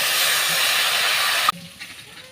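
A little water is added to a hot wok with jaggery, setting off a loud, even hiss that stops abruptly after about a second and a half, leaving faint clinks and bubbling.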